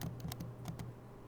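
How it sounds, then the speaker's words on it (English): Quick bursts of keystrokes typed on a computer keyboard, a handful of soft clicks in a short uneven run, faint and close over a low steady hum, with no voices. "the sounds of typing also echo in your ears"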